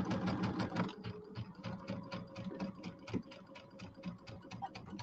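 A sewing machine runs steadily, stitching a seam straight across a holiday settee pillow, with a fast, even mechanical chatter and a faint motor hum, close and alone with no talk.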